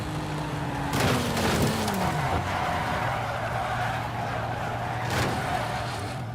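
A Hot Wheels toy-style car in Forza Horizon 5 drives with a steady engine drone, sweeping pitch shifts as it skids and squeals, and a couple of sharp broadband bursts, heard alone without talk.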